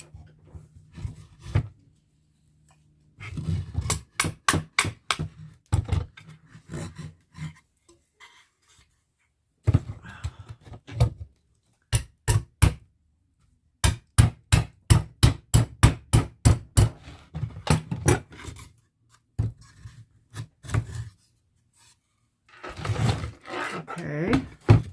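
Nails struck with an improvised tool in place of a hammer, sharp knocks coming in quick bursts of several blows separated by pauses, with speech heard in the gaps.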